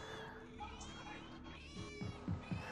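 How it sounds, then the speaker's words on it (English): A Fortnite character lets out a few short cat meows, faint and close together, mixed into game background sounds. "the character this guy chose is so fucking annoying. It keeps meowing."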